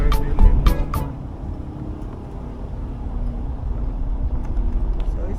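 Car driving along a countryside road in Little Bay, Westmoreland, Jamaica, a close steady engine and road rumble after a few sharp clicks at the start, with a faint voice in the cabin.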